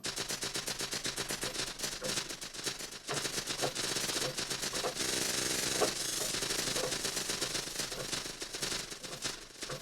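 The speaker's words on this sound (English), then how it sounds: "That has a bit of a raspiness, a raspy kind of sound to the hi-hats, which sound really cool over lo-fi beats" A raspy lo-fi hi-hat preset from the Hatz VST plugin plays a dense, continuous stream of gritty, noisy ticks in a steady fast rhythm, loud and alone.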